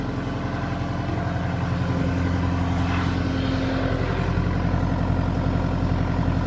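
A Cat 242D skid steer loader idles steadily on a cattle farm, a loud, close diesel drone with a constant low rumble and even mechanical rhythm that holds throughout without any talk.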